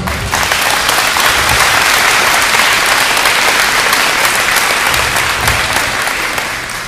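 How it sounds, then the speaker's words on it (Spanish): A church audience breaks into loud, sustained applause, many hands clapping in a thick continuous roar that holds steady and eases slightly at the end. "Dale un aplauso."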